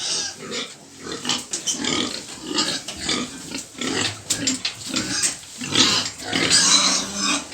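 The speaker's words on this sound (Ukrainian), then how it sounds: "Ось свинки всі репетують, хочуть їсти." Several pigs squealing for food grunt and squeal loudly and continuously, overlapping one another in an agitated, close chorus.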